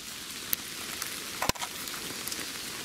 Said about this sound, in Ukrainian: Дощик іде, але то нам не заважає.